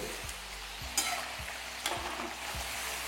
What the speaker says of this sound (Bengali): এবার এটাকে ডবল ফ্রাই করে আমাদের ওপরটাকে ক্রাঞ্চি করে নিতে হবে।